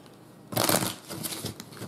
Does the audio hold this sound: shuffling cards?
yes